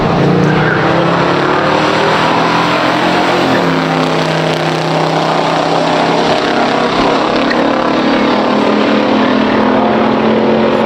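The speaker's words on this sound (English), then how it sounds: "Corey Peterson, he's driving Buick GS Stage 1." A 1970 Buick GS 455 Stage 1 and a 1969 Chevelle SS in a pure stock drag race, loud close V8 engine roar held at full throttle throughout, with rising and shifting engine tones.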